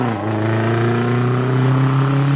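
A Riley Falcon special, a 1500cc saloon-based vintage car, sets off on a hill climb run at Prescott, its engine note rising steadily and loud and close, with no talk over it.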